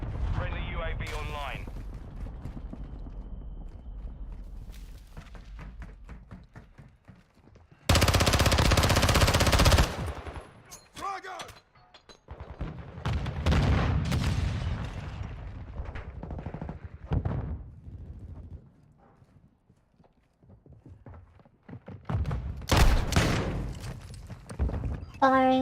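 Bursts of automatic gunfire and heavy weapon blasts in Modern Warfare II multiplayer, loud and close, coming in clusters separated by quieter stretches, with players talking over much of the action.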